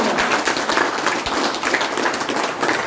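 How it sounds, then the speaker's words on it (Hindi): Village crowd in Chandsara, Meerut district, claps loudly at a welcoming gathering, a dense sustained burst of many hands with no pause across the few seconds. "जोरदार ताली गांव चंसारा के लिए सभी से चाहता हूं, जोरदार ताली"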